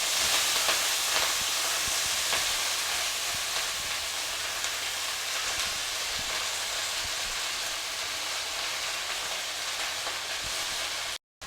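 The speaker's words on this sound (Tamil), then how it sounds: "கீரையை வதக்கி விடுங்க" Ponnanganni spinach leaves fry in a pan of hot oil with mustard seeds and two dried red chillies, giving a steady, close, bright sizzling hiss that holds evenly throughout before cutting off abruptly.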